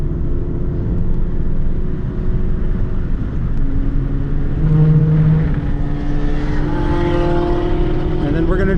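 A car engine on track is heel-toe downshifted from fourth to third gear. The engine hum holds steady, then steps and rises in pitch as the revs are blipped, loud and close, with a voice talking over it.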